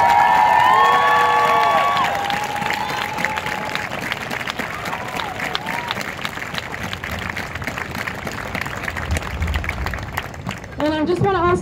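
A crowd at a women's march in a public space applauds and cheers, with whoops and shouted voices over continuous clapping, loud at first then settling into steady applause with talk mixed in.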